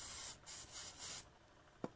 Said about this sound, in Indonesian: Kita semprot lagi, kita bersihkan